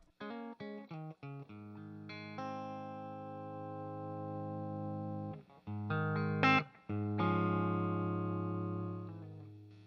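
Electric guitar played through a Fender Princeton amp into a Marshall cabinet, loud and sustained with ringing distorted chords, a few short staccato stabs at the start and later, then long held notes to the end.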